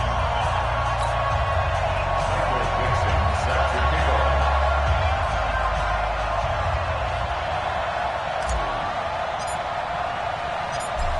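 Steady roar of a large stadium crowd in an NFL video game before a Seattle Seahawks versus Philadelphia Eagles matchup, a dense continuous murmur with occasional thuds over it.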